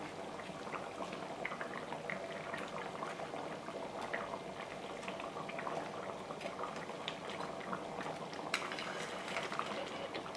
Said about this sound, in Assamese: এয়া আমাৰ উতল আহিছে, দেখিছে? এয়া উতল আহিছে।